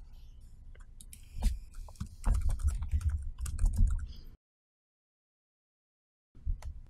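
Fingers type on a computer keyboard in quick, irregular bursts of clicks, close and clear, then a two-second silence before a final few keystrokes.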